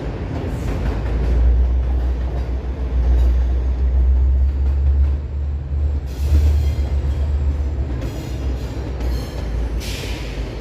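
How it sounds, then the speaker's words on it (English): Two trains, an outbound Via train and an inbound GO train, pass each other in downtown Toronto, a steady heavy rumble of wheels and cars rolling by with occasional squeals, loud and continuous without talk. "That's a Via train that's heading outbound, and the GO train heading inbound."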